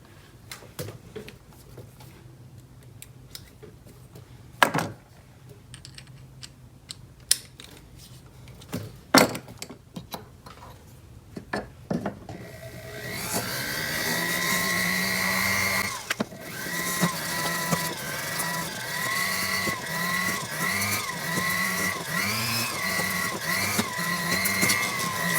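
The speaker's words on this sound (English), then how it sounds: "use your wheels with your rotary tool and clean it up" A rotary tool polishing a wide band ring: scattered taps and clicks at first, then a steady high-pitched whir that starts about halfway through and continues, close and moderately loud.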